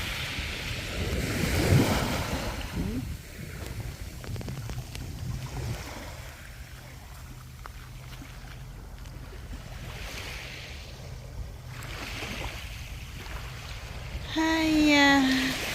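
Rough sea surf rolling onto a beach, a steady wash of breaking waves under heavy wind buffeting the microphone, swelling louder at the start and end.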